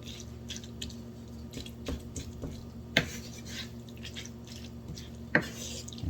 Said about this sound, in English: We're just going to mix this up really good.